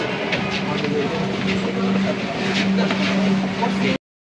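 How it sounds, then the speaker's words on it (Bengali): A train pulls into a station in Dhaka, a steady, loud rumble with a low droning hum that holds for about four seconds before cutting off abruptly. "তো ফাইনালি আমাদের ট্রেন চলে আসছে।"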